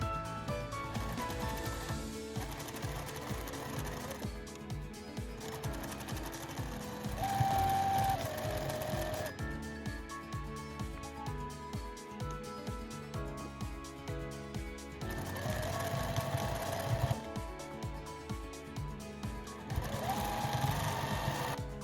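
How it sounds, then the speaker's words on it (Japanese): A sewing machine stitches steadily around a patchwork table runner, a rapid continuous mechanical chatter with slight pace changes throughout, close and fairly loud, with no talking. "返し口を残して一周縫います。"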